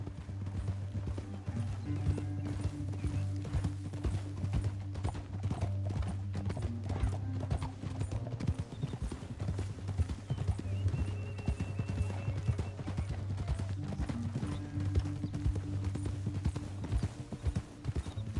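Horse hooves clip-clop in a fast, steady rhythm throughout, close and continuous, with an occasional faint whinny in the background, in the video game Red Dead Redemption 2.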